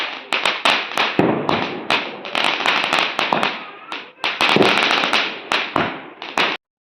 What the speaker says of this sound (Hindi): फिर हमने पटाखे जलाए और अपनी दिवाली को इंजॉय किया